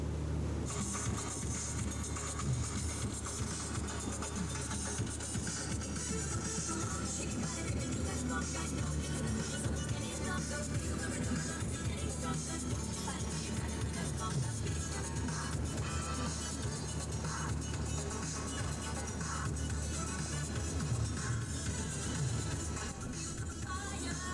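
Mainship motor boat running fast through wind-driven swells at around 15 mph, a steady loud engine drone with rushing water and hull noise throughout, no voices.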